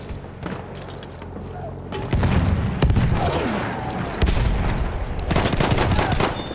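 Rapid gunfire crackles in Battlefield 1, with rifle bursts and pistol shots popping through dense battlefield noise and explosions, continuous and close throughout.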